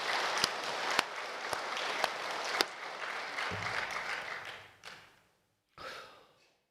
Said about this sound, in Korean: 하나님께 큰 영광의 박수 한번 하겠습니다